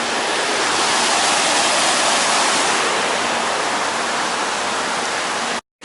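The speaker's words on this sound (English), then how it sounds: "Excellent path along here, the side of this tumbling stream." Rushing water of a tumbling mountain stream beside a footpath at Llanberis, a steady broadband roar close by that holds constant for several seconds before cutting off abruptly.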